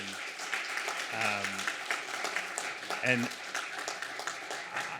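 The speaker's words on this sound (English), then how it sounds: "can we get a round of applause for the panelists" Audience applause for conference panelists at the close of an NYU New Cities discussion panel, a steady wash of clapping lasting throughout, with a voice speaking over it briefly.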